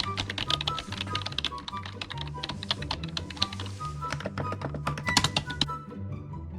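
Rapid clicky tapping on a honey keyboard fidget toy, dense irregular key clicks close to the microphone, continuous and crisp with a low hum underneath.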